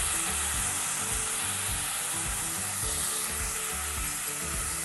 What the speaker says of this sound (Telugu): ఇది సిమ్లో పెట్టి నానబెట్టుకున్న బియ్యం వేసేయాలి ఇందులో.